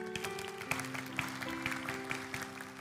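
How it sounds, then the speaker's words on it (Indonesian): A church congregation claps in praise during a sermon, fairly faint and steady, with sustained musical tones and a held keyboard chord underneath the scattered handclaps. "Kasih tepuk tangan Tuhan."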